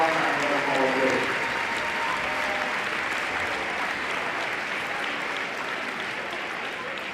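Crowd applause for a Hall of Fame inductee in a high school gym, dense sustained clapping that slowly fades, with a voice briefly audible near the start.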